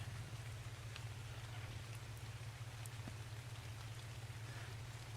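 Rain in the video game ARK falls as a steady, soft hiss with scattered faint drop ticks, continuous and quiet beneath a low constant hum.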